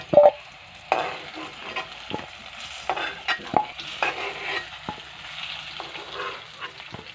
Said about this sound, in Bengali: কড়াইতে তেল দিয়ে ভেজে নিব